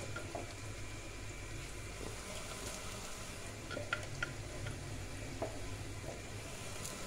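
Onion sizzles and fries in a pan as ginger and green chilli paste is added, a steady low crackle with occasional stirring scrapes and small taps, fairly quiet throughout.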